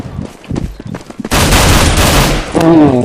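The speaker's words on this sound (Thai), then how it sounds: "มีการยิงกันอยู่" Gunfire in Counter-Strike: Global Offensive: scattered shots at first, then a loud, sustained burst of rapid automatic fire that fills the clip, with a brief rising tone near the end.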